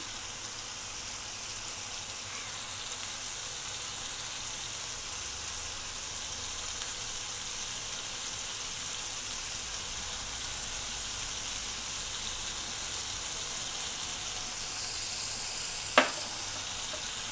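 Pineapple slices coated in masala roast on a hot tawa with a steady, close hiss and fine crackle that holds throughout, with one brief sharp tap near the end.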